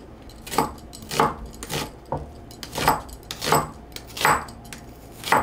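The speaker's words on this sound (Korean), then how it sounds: "양파를 하나 썰어서" A kitchen knife slices through an onion on a cutting board while making dried radish leaf stew, producing about nine close, crisp, evenly spaced chops in a steady rhythm with no talking.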